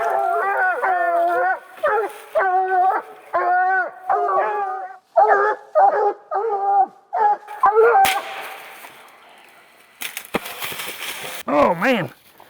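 Coon hounds baying at a treed raccoon during a Missouri night hunt, a fast series of loud, close, tonal bawls and howls repeating in bursts, followed by rustling noise and a final drawn-out wavering howl.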